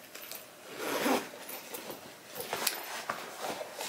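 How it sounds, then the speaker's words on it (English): A zipper on a Telfar medium bag pulls open in a run of quick, close rasping strokes, loudest about a second in and continuing in shorter bursts, with no talking. "So on one side we have the zipper."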